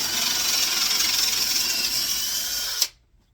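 A 15/64 bit drills out the primer pocket of a Magtech brass 12-gauge shotgun shell, giving a steady, close, high-pitched whirring grind for nearly three seconds before the drill cuts off abruptly into silence.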